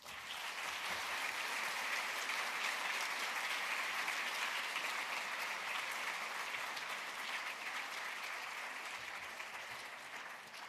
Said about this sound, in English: Can we have one more round of applause for our outstanding awardees?